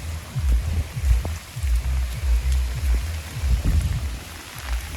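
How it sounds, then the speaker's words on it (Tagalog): Heavy rain falls steadily outdoors in Bicol, a close, dense patter of drops with low thuds on surfaces and no talk. "Kasi lumalakas yung ulan."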